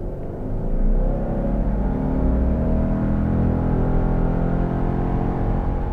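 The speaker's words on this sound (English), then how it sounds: "0 to 60 came up in 6 seconds flat." A 2024 Subaru Outback Wilderness with a 260-horsepower engine accelerates hard from a standstill, a steady rising engine drone and road rumble heard from inside the cabin, continuous and fairly loud with no talk.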